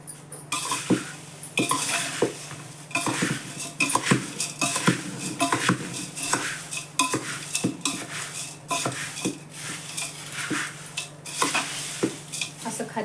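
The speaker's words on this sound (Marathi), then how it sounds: "आधी हलवून घेते चांगलं." A spoon stirs and scrapes through a dish in a hot pot right after sizzling kadhai tempering is poured in. Repeated metallic clinks and scraping run close and steady over a soft sizzle, with no talking.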